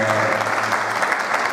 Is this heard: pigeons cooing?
no